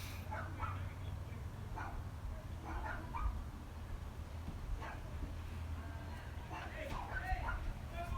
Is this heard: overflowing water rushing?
no